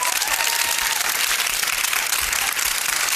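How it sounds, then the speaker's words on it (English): Studio audience on a television talk show applauding a guest, a dense, loud, sustained wash of clapping with some crowd noise throughout. "I think you got a bigger ovation, a bigger applause than Margaret Trudeau got"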